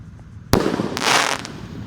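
Roman candle fireworks, 1.2 and 1.5 inch, firing outdoors: a loud close bang followed by a hissing, crackling burst and a couple of further pops.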